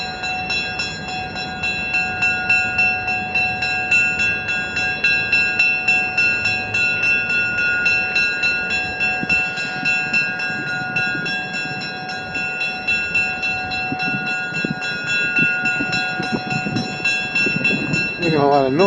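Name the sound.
Alco diesel locomotives running, double header train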